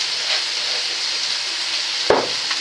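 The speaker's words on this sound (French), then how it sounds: "Donc mes lardons continuent à cuire." Bacon lardons frying in a pan for a crustless quiche, a steady close sizzle and hiss with a single sharp knock near the end.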